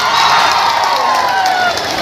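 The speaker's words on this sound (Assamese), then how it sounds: "সহকাৰী সাধাৰণ সম্পাদক জোনমণি কলিতাই পুনৰ এটা হাত চাপৰি" An audience at a college freshers event claps and cheers in a loud, dense burst of applause with whoops and shouts that holds steady throughout.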